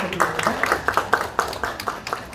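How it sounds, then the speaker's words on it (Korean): A small audience claps in quick, uneven bursts for the panel chair being introduced at a National Assembly debate forum on cooking fumes and school fine dust. The clapping is fairly close, moderately loud and carries no talk over it. "큰 박수 부탁드립니다."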